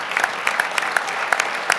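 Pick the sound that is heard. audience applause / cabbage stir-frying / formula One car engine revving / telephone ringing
audience applause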